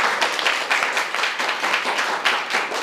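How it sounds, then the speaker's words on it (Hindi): Schoolchildren at a government school in Uttar Pradesh applauding their teacher, steady, fairly dense clapping from a group, sustained throughout with no talk over it. "तालियां आपके सर के लिए।"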